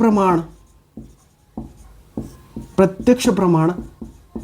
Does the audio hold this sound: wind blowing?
no